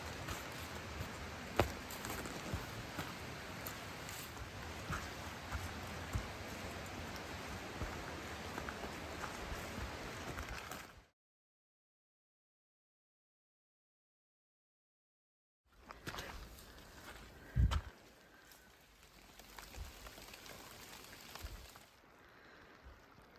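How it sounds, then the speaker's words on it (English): Steady rain patters on a mountain trail near Little Wanganui Saddle in Kahurangi National Park, a dense close hiss that cuts to silence partway through, then resumes with a few thumps and rustles. "It is raining."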